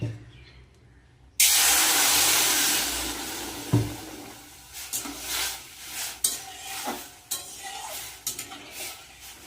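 Mung dal, already dry-roasted, washed in a pot: a burst of running water pours in, then swishing and clattering of the grains and pot at close range.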